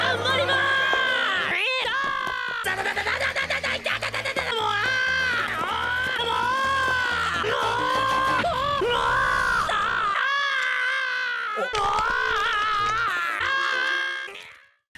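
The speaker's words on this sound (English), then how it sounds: "Oh god, Asta screaming is so fucking annoying." The anime character Asta screams at length in a strained, shrill voice, sustained cries with brief breaks, loud and close over background sound and music.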